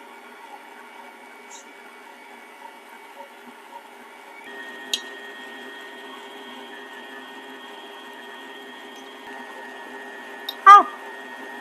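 An electric mixer beats butter into frosting for a rainbow cake, a steady motor whir running at low level and growing slightly stronger partway through, with a brief clatter near the end.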